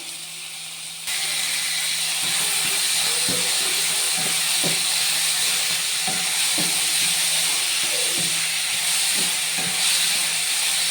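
Onions and green chilies sauté in a pan for a squid dish, a loud steady hissing sizzle that starts abruptly after a second and runs continuously, with a few soft clinks and knocks scattered through it.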